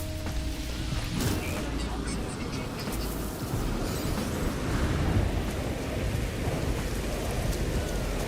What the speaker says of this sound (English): The storm shouldn't be too big of a deal.